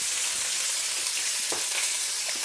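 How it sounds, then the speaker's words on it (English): Velveted and plain meat slices frying in a hot pan, a steady bright sizzle and crackle close up with small pops, no voices. "Literally just going to fry them off for a couple of minutes."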